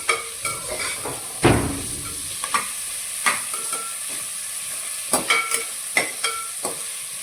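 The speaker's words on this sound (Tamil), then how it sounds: "ஆனியன் நல்லா வதங்கட்டுங்க." Onions sautéing in a pan with a constant soft sizzle, broken by repeated sharp scrapes and taps of a spoon stirring, close and alone with no talk.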